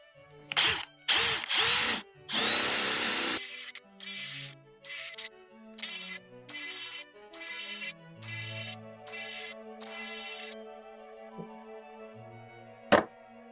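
A power drill boring into wood to hog out material for a storage bench, with a run of loud, close drilling bursts of varying length separated by short pauses and a sharp knock near the end.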